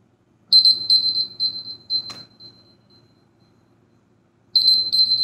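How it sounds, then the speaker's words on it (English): Timer alarm going off in a room, a shrill rapid beeping burst that fades out, pauses in silence, then starts again loud and close. "The timer went off."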